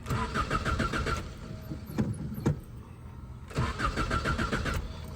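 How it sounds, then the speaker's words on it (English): A 1978 Toyota Corona engine cranks in two bursts of rapid rhythmic starter churning, separated by a quieter gap with a couple of sharp clicks, and it catches into running, loud and close. "Let's fire this thing up."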